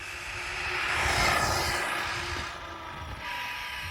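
A Team Corally Kagama 4S RC car runs at full throttle, its electric motor giving a loud, close, rising and falling whine that swells as it passes and then fades slightly.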